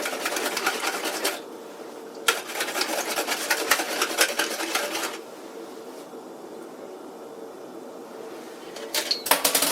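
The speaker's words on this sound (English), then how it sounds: "Just give them a quick whisk. I've got my egg." An egg being whisked for a cornbread casserole, heard as rapid, close rattling strokes in three bursts separated by short pauses, with no talking.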